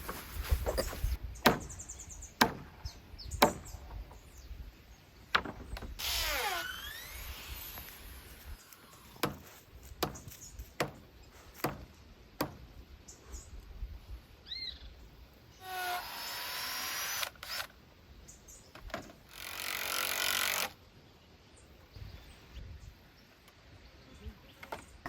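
Rebar is used to hammer nails into round timber while building a simple chicken coop, giving a series of sharp, irregular knocks and taps close by, with scraping and handling noises between them.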